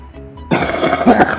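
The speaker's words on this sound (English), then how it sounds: "Sorry about that cough" A man playing Minecraft PE SkyWars gives a single harsh, throaty cough that bursts out loudly and close, following a brief low murmur.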